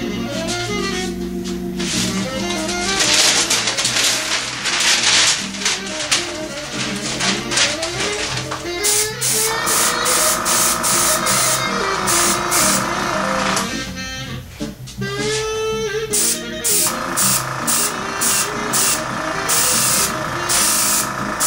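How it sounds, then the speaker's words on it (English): An airbrush or spray can lays a light mist coat of paint on a model airplane, with a loud continuous hiss that changes in bursts across the take and no talking. "So we'll just put on that little mist coat basically there"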